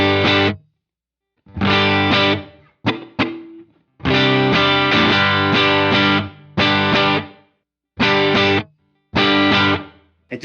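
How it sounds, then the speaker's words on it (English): Electric guitar through amps with a room reverb pedal from a pedalboard, loud distorted chords played in bursts with silences between, each ringing with a short roomy tail, no talking. "This is a room reverb for the amps."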